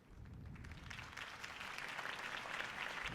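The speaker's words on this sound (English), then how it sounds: "could have heard that applause" A video game crowd in Batman: A Telltale Series breaks into applause that swells and grows steadily louder over a few seconds.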